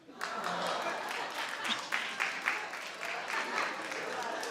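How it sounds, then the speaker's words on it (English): Scattered applause from a small audience, a handful of people clapping in a loose, uneven rhythm that lasts several seconds at moderate distance. "Like 8 people clapped"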